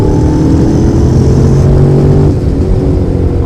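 A Honda NC750X motorcycle speeds down a race track straight, its engine note rising through the gears as a loud, steady drone with shifting pitch, close and continuous throughout, no voices.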